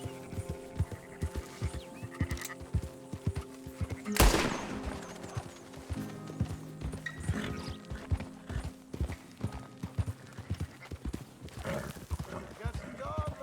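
Horse hooves in Red Dead Redemption 2 clip-clop in a steady rhythm of repeated thuds throughout, with one sharp loud burst near the middle, under game music and occasional voices.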